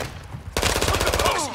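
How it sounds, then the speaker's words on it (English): Rapid gunfire from a firefight in the video game Call of Duty DMZ, bursting in loud and close after a quiet opening and continuing as a dense, rattling volley with a voice briefly over it. "Enemy fire."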